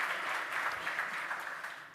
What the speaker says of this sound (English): So round of applause for these three incredible leaders.